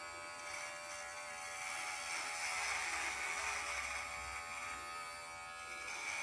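Brio Beardscape electric beard trimmer running with a steady high-pitched buzz and whir, close and continuous, its pitch wavering slightly as the motor speed fluctuates; no voices.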